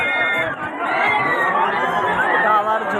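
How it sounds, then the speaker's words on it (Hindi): Dense crowd chatter and babble fill a busy fairground with swing rides and a tower ride, a continuous steady hubbub of many voices with occasional shouts, fairly loud and close throughout. "काफी भीड़ है।"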